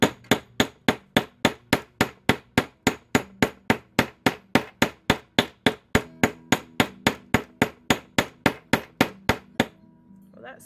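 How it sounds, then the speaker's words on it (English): A brass hammer strikes flat jewelry wire on a hard surface in a steady run of about thirty sharp, evenly spaced metallic blows, close and loud, ending abruptly with a short quiet tail. "I'm going to hammer this as pretty flat and stiff as I can get."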